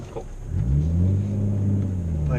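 Roush RS Mustang with a naturally aspirated V6 running, a low steady engine rumble that swells and settles into a deep drone close by, with brief talk at the start.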